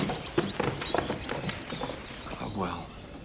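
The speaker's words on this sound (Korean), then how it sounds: "다시 새들의 지저귀는 소리가 들리기 시작했죠" Birds chirp in short, scattered bursts, with voices talking in the foreground.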